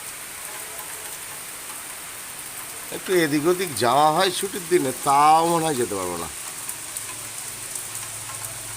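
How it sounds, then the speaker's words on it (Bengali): Steady rain hisses in the background while someone speaks for a few seconds in the middle; the rain continues alone before and after. "আর ছুটির দিনে সকাল থেকেই বৃষ্টি"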